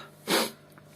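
A person sneezes once indoors: one short, forceful burst of breath that stands alone, with no talking around it.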